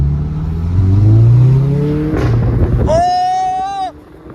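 A 400 hp Audi TTS accelerating hard on the road, its engine note climbing through the gears with a rising whine, then a sharp high-pitched rev tone that cuts off abruptly; people talk over it.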